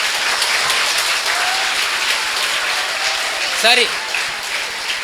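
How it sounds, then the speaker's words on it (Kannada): Audience applause fills a lecture hall, a dense steady wash of many hands clapping throughout, with a brief spoken word near the end. "ಈ ಚಪ್ಪಾಳೆ ಬಂತಲ್ಲ"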